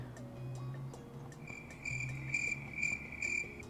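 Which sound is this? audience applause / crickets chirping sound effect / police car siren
crickets chirping sound effect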